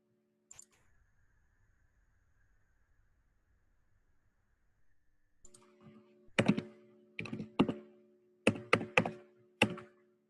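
Typing on a computer keyboard to enter credit card details: after a long quiet stretch, several separate bursts of key clicks and thunks come through close and crisp, with short pauses between groups.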